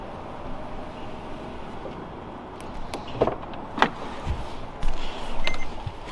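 Power windows and a sunroof on a Mercedes-Benz W211 whir open, a low motor drone over background hum punctuated by several sharp clicks and thumps as the mechanisms move and stop.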